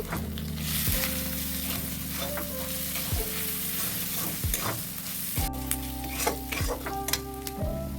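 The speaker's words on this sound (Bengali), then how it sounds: "সব মশলা দিয়ে হালকা একটু নাড়াচাড়া করে নেব।" Turmeric and chili powder fry in a pan, giving a continuous sizzle under a low steady hum, with occasional scraping and light clinks as the spices are stirred.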